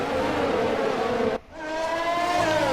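Formula 1 race cars from the F1 20 video game at the Russian Grand Prix, a loud, sustained high-revving engine whine with rising pitch, briefly cutting out mid-way before a second car's engine builds back up.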